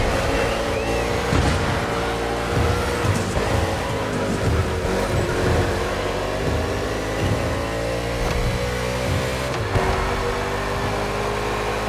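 NASCAR stock cars racing through an urban street circuit in Honolulu, Hawaii, in The Crew Motorfest, with engines roaring steadily as the cars accelerate and shift. A continuous, fairly loud drone persists throughout.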